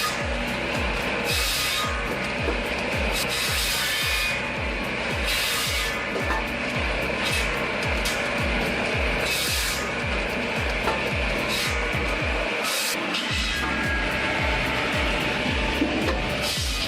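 A saw on a firewood processing machine cuts through logs with rapid, rhythmic rasping strokes, loud and continuous, with occasional brighter hissing bursts over a steady mechanical drone.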